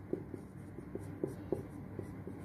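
A hand writes out an answer with pen on paper: soft, quiet strokes and taps that repeat irregularly, close by, with no voices.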